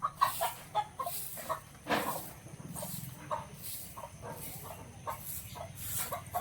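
Chickens cluck in short, repeated bursts, with an occasional louder squawk, fairly close against a quiet outdoor background.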